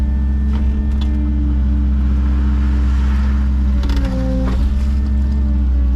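A skid steer drawing near on a yard drain job, its engine a steady loud drone throughout with a brief shift in pitch partway through.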